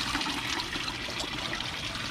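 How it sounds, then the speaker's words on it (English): Water discharges steadily from a pipe in a garden veggie bed setup, a continuous rushing, splashing flow heard close and alone. "This water then discharge. You can see it's discharging out of this pipe."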